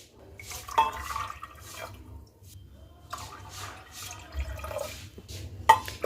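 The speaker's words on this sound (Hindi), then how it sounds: "उसके बाद हम इसमें 3 से 4 कप पानी डालेंगे।" Water poured in bursts into a pressure cooker holding rajma for a Punjabi-style recipe, sloshing and splashing in a few uneven pours with short pauses between, fairly close.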